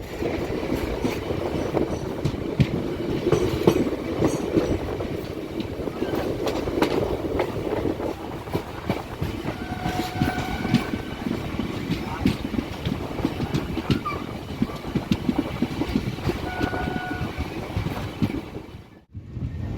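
Intercity Express train running on rails in India, a steady loud rumble of wheels and carriage noise throughout, with faint tonal squeals, fading abruptly near the end.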